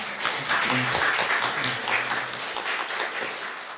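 A church congregation claps in encouragement for a member about to give birth, a short burst of close, steady applause with a few voices at the start, fading slightly toward the end.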